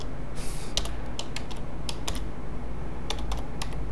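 Quick, uneven keystrokes on a computer keyboard, several clustered taps and clicks spread across a few seconds over a faint steady room hum, close by with no talking.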